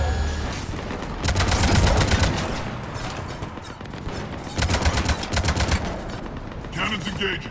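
Cannons fire in Mass Effect 3 during the battle to retake Omega, in two loud bursts of rapid automatic shots separated by a brief lull, with game effects continuing underneath.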